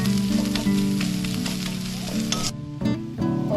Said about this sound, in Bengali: এখন দিয়ে আমি ভালো করে একটু ভাজা করবো।